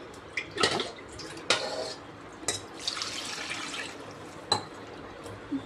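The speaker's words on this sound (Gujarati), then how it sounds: "એને ગરમ પાણીથી અથવા હૂંફાળા પાણીથી સરસ રીતે 3 થી 4 વાર ધોઈ લેવાની" Oily dal lentils being washed by hand in warm water, with a few soft splashes and sloshes spaced a second or so apart over faint background hiss, close by and alone without talk.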